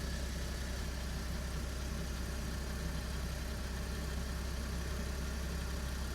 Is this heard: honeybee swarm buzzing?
no